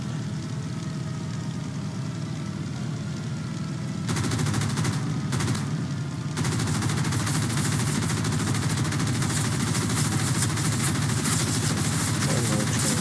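Aircraft machine-gun strafing in the Roblox game Wings of Glory, sustained rapid gunfire bursts over a steady engine drone, loud and continuous with brief gaps before firing resumes.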